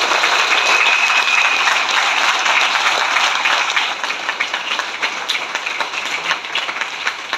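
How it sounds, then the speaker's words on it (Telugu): Audience at a speech event in Guntur breaks into loud, sustained applause, a dense wash of clapping that carries on strongly before easing into thinner, more scattered claps. "ఒక్కసారి బిగ్ క్లాప్ సార్"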